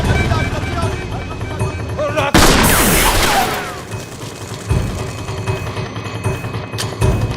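Gunfire in a Hindi-dubbed movie scene: a sharp, loud burst of shots and booms cuts in over a busy mix of voices and background noise, then fades back under continuing talk.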